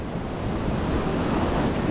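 Rough sea water churning and surging continuously, a dense roar of waves mixed with wind buffeting the microphone.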